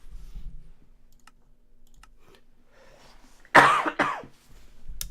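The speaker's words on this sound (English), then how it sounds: "I don't want to cough into the microphone." A sudden loud cough bursts out near the end, following a few seconds of quiet clicking and light typing noises.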